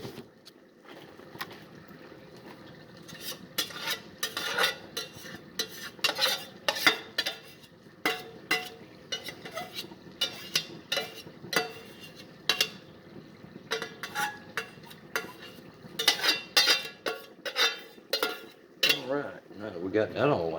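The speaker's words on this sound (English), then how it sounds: "I want to scrape that frying pan clean" A metal utensil scrapes a frying pan clean after cooking chili, with repeated irregular scraping and clinking strokes, close and moderately loud, no talking.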